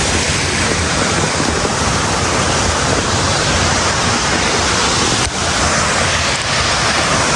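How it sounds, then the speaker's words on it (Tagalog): A waterfall roaring in a steady, loud, broadband rush of falling water, continuous and close, with rumbling wind buffeting the microphone. "we have a short visit to this falls"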